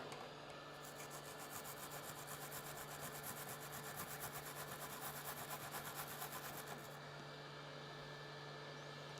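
A brass brush scrubbing a 3D printer part in a steady rhythmic back-and-forth rasp over a constant electrical hum, sounding close and continuous for most of the stretch before easing off near the end.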